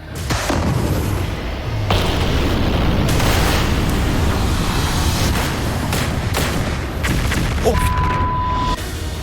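Large MythBusters explosions produce a loud, sustained rumbling roar with several booming bursts that fill the whole stretch, with a brief tone near the end.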